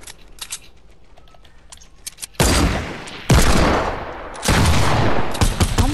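Rapid bursts of Fortnite gunfire, loud and close, arriving in two or three dense volleys after a quieter stretch of faint game clicks.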